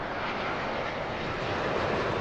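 An airplane landing on runway 09 left at Heathrow Airport makes a broad, steady jet roar at moderate distance, sustained and slightly swelling, heard alone without talk.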